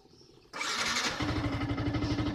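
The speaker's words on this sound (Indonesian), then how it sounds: "Motor bisa nyala tanpa kontak." A Yamaha R15 motorcycle fitted with an alarm system starts without its ignition key: a short starter whirr catches into a loud, close engine that settles into a steady, pulsing idle, with no talking.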